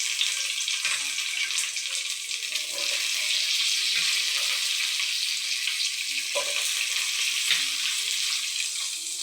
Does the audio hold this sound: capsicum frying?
yes